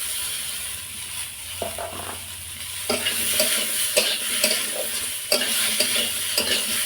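Cucumber stirred and fried in spice paste in a wok, a steady close sizzle broken by repeated scraping strokes of a spoon against the pan, with no talk.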